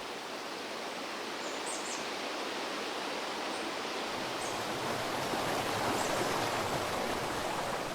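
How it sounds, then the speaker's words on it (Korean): A mountain valley stream at Baekyangsa temple rushes in a soft, continuous, even wash of flowing water, with faint bird chirps above it. "약수천에서 풍요롭게 쏟아지는 계곡 물줄기를 만난 것도 시절 인연이지 않을까요?"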